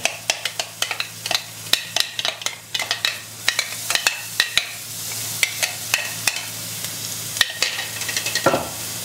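Minced garlic stir-frying in a pan, with a steady sizzle cut by frequent sharp scrapes and taps of a spatula against the pan, close and fairly loud throughout.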